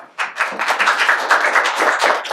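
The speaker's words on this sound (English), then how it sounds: "Round of applause" Enthusiastic applause from an audience, a dense burst of many hands clapping steadily after a brief start.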